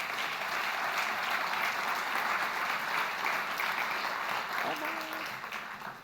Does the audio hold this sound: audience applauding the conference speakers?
yes